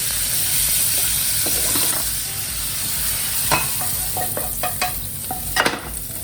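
Prawns, about 70% cooked, sizzle in a hot pan while they are stirred and lifted out, a steady close fry broken by a few sharp clinks and scrapes.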